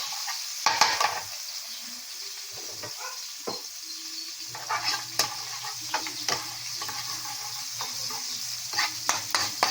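Garlic sautés in melted butter or margarine for fried rice, a moderate sizzle broken by frequent spatula scrapes and clinks against the pan, with a faint low hum in the background.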